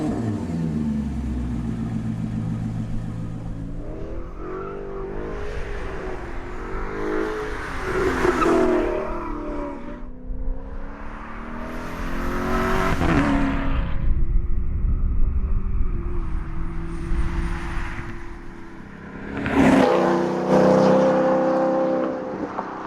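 An Alfa Romeo 8C Competizione with a 4.7 litre V8 accelerates hard through several gears, each rising roar cut by a brief dip at the shift, loud and close with deep rumbling between pulls.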